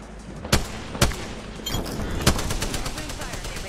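Gunfire in Apex Legends at Skull Town: a few sharp single shots a half-second apart, then a dense rattling burst, loud and close, with game announcer voice lines underneath.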